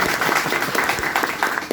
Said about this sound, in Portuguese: palmas para a aí pra menina. nossa amiga.